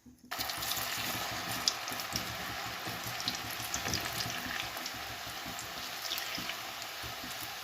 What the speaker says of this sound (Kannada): ಇವಾಗ ಇದನ್ನು ಎಣ್ಣೆಗೆ ಬಿಡೋಣ. ಎಣ್ಣೆನೂ ಕಾದಿದೆ, ಬನ್ನಿ ಎಣ್ಣೆಗೆ ಬಿಡೋಣ.